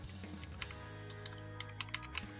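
Keys on a computer keyboard are tapped in a quick, uneven run of soft clicks, close up and alone against a faint steady background hum.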